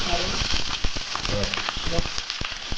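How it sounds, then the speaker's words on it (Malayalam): Mustard seeds spluttering in hot oil while tempering puli inji (tamarind-ginger curry) for a sadya, a dense run of sharp pops and crackles throughout, close and fairly loud. "എണ്ണ ഒഴിച്ച് കടുക് പൊട്ടിച്ച്"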